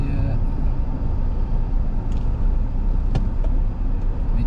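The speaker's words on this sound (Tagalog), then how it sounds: "Medyo marami sasakyan dito ah." Steady road traffic with many cars and other vehicles passing along a seaside road in Atimonan, Quezon, a continuous loud rumble heard from a moving vehicle.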